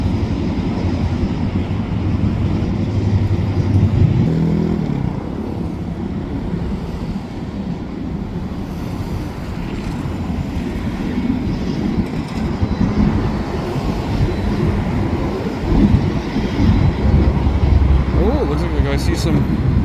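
A freight train of old-style and tall newer boxcars with extra cars on the back rolls past an overpass, giving a loud, continuous rumble with faint wheel clatter, and a voice talks over it.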